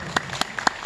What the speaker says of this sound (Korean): 박수 좀 한번 해주시죠